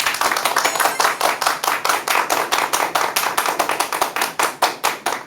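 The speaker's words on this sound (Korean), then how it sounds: "여러분 큰 박수 부탁드립니다." An audience at a Korean nutrition lecture applauds the speaker, the claps crisp and rhythmic, almost in unison, coming in quick regular bursts at steady loudness for the whole span.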